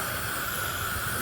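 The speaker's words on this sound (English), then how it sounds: "It's starting to steam." A pressure cooker lid hisses a steady, continuous jet of steam while split pea soup cooks, the sound unbroken and fairly loud throughout with no talking.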